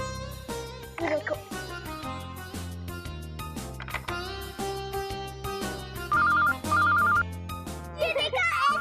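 A telephone bell rings in a few short repeated bursts near the end, after dialing 161, with children and adults talking throughout and a clunky handset handled.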